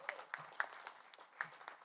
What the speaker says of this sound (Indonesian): sekali lagi tepuk tangan untuk para pemenang